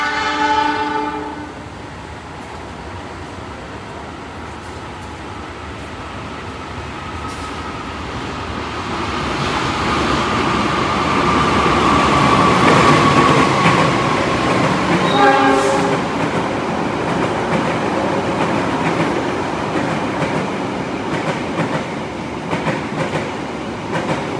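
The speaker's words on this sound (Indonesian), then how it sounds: "Akan segera melintas langsung di jalur 3 kereta api Argo Lawu dari stasiun Solo Balapan tujuan stasiun Gambir" The Argo Lawu express from Solo Balapan to Gambir runs straight through a station on track 3. A horn sounds, then a rising rumble and clickety-clack of passing wagons, and a second horn blast follows midway.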